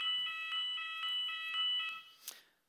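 A fire-alarm-style tone played through speakers during a presentation, repeating shrill electronic beeps in an even pulse, ending with a short louder burst.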